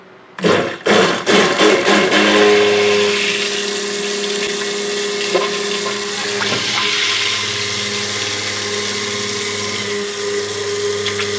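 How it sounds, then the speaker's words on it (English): An immersion stick blender mixing soap oils whirs steadily at close range, starting with a few short pulses before settling into a continuous motorized hum. "we're going to just use our blender to kind of incorporate that"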